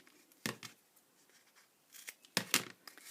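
Scissors cutting paper while shaping a superhero cuff bracelet: quiet, close snips, one near the start and a pair of crisper cuts near the end, with faint rustling between.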